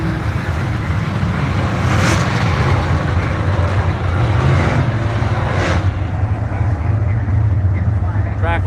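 Brad Bloomfield's 05 UMP Modified race car rumbles steadily in the distance at a speedway on championship night, a broad engine roar layered with crowd and track noise, continuous throughout.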